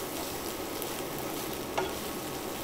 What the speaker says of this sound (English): And then we're just going to let that fry up.